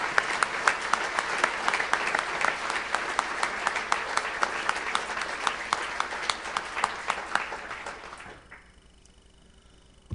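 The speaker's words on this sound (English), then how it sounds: "How about joining me in another round of applause for our Ag Hall of Fame inductees tonight," An audience at an agricultural hall of fame banquet applauds the inductees with dense, steady clapping that carries on for about eight seconds and then stops, leaving faint room tone.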